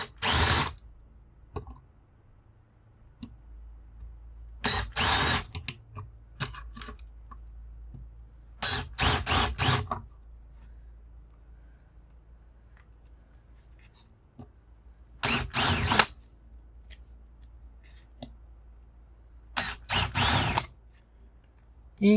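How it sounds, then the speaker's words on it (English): A power drill bores out rivets holding a MOSFET bracket to a circuit board in short, loud whirring bursts, about half a dozen separate runs with quiet handling clicks between them. "So we're going to have to get rid of these rivets."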